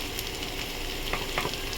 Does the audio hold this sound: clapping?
no